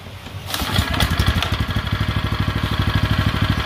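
A 6 hp Tohatsu outboard engine is pull-started, catching after a short rough burst and settling into a steady, rapid, close chugging idle.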